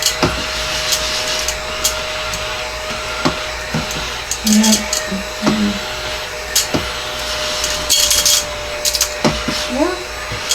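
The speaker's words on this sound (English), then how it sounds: "I don't know if my little vacuum will vacuum up these staples or not" A small, low-powered vacuum cleaner sucks up metal staples, its steady whine running throughout with scattered ticks and clicks as pieces are pulled in; a person speaks briefly over it.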